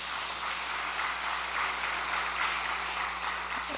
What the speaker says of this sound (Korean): 그 많은 사람들 틈바구니에서 열심히 노력하는 우리 정빈이, 다시 한번 격려의 박수 부탁드리겠습니다.